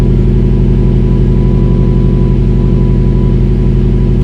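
A loud, steady Subaru STI idling with a muffler delete, a deep, throbbing exhaust rumble, continuous and close, no voices.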